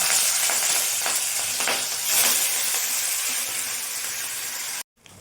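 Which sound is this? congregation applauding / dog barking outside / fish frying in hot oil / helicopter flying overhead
fish frying in hot oil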